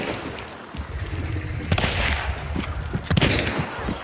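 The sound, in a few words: suppressed gunfire in a video game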